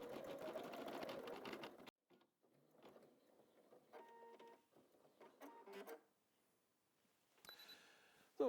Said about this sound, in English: And now the machine embroiders the lighthouse and the Urlaub wording.